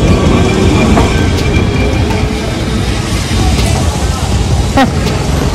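A train passes on a track in Lisbon, with a loud continuous rumble and faint wheel squeals. It sounds close and steady throughout.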